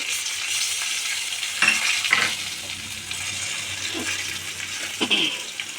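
Spices with ginger, cumin, coriander, Kashmiri chili powder, turmeric and tomato sauce sautéing in a pan for vegetarian ghugni, a continuous close sizzle with a few sharper scraping stirs of a spoon against the pan.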